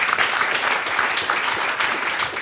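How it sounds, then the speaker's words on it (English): Steady, dense clapping from a large audience at a fashion business event, continuous and even throughout with no voices over it. "Have a round of applause for Catherine."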